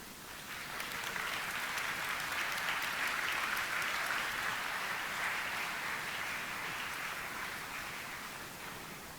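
An audience at an Nvidia GPU launch event at Gamescom applauds in a dense, steady wash of clapping that swells and then eases slightly over about nine seconds, with no voices standing out.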